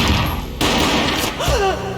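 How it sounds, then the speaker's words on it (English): A single heavy gunshot booms in the Max Payne video game, a sharp burst cutting through ambient game noise, followed by a brief vocal cry. "A gunshot boomed and she fell down in slow motion."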